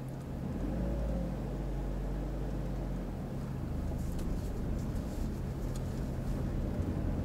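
A learner's car pulling out at a junction during a driving lesson, its engine a steady low rumble with a slight rise in revs, heard from inside the cabin and with no talk.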